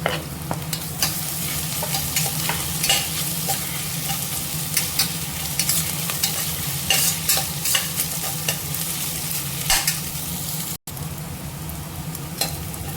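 Onion, ginger and crushed garlic sautéing in a pan, a continuous close sizzle broken by frequent scraping stirs from a spoon, with no voices.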